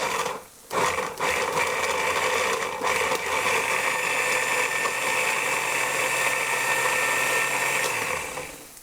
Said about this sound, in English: So I'm going to put that onto my blender, and we're going to blend that to get it nice and smooth.